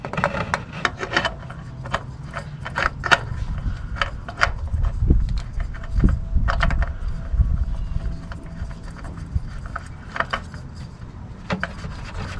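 Oil filter and cover being hand-tightened during an oil change on a 2021 Toyota Camry LE: steady rubbing, scraping and ratcheting clicks close up, with a few sharp knocks and low thuds throughout.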